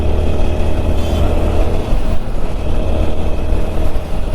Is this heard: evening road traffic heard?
yes